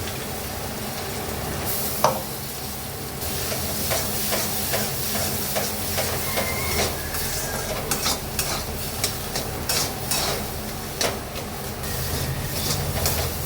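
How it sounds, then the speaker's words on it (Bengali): Half-fried onions and pointed gourd paste are stirred in a pan for potol bharta, giving a continuous close sizzle with repeated scraping strokes from a spatula. "পেঁয়াজটা যেই এরকম হাফ ভাজা হয়ে যাবে, তখন কিন্তু এই মিক্সি থেকে এটা বার করে পেঁয়াজের মধ্যে দিয়ে দিতে হবে।"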